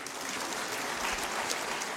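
An audience applauds at the 2011 Guadeloupe sports awards ceremony, a steady, even wash of clapping that holds at moderate loudness throughout.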